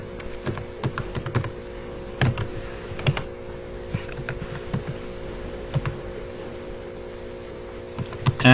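Someone types code on a computer keyboard at scattered, irregular intervals, with sharp close clicks and short bursts of keystrokes over a steady electrical mains hum.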